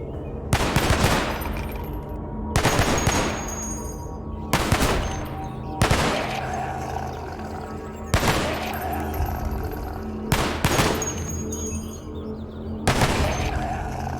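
Machine gun fire in Cataclysm: Dark Days Ahead, loud close bursts of automatic shots, about six separate volleys spread over the span with short pauses between them.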